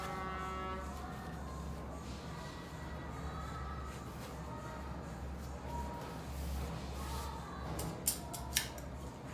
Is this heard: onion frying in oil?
no